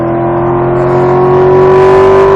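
A race car engine holds a steady, loud high-revving drone at full throttle, pitch creeping slightly upward through a short burst of hard acceleration on track.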